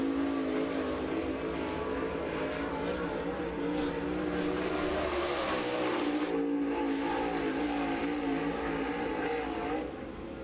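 Race car at speed on Cherokee Speedway, a steady loud engine roar throughout, swelling slightly midway as the car passes, alone without talk.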